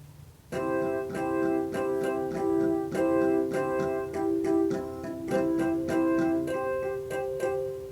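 A short musical phrase of layered parts repeats as a loop, with bright plucked notes pulsing over a steady rhythmic pattern.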